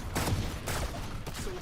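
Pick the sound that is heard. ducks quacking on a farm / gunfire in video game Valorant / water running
gunfire in video game Valorant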